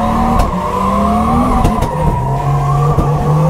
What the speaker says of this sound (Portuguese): Vamos esquentar os pneus,